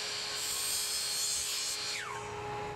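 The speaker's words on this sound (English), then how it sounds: "I used my miter saw to cut 4 pieces of 1/2-inch by 1/2-inch aluminum angle" Miter saw cutting 1/2-inch aluminum angle, a loud continuous high-pitched whine with grinding texture that drops in pitch as the blade spins down.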